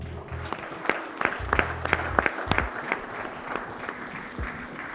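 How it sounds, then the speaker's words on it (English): Audience clapping at an evening football forum panel, a steady spread of many hands with sharper individual claps standing out, moderately loud and filling the room. "You can give each other a round of applause."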